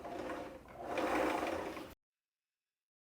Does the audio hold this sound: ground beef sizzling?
no